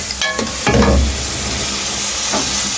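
Tomatoes and garlic sizzle loudly in a pot, with a couple of sharp stirring scrapes and a burst of hissing early on before the frying settles into a steady crackle.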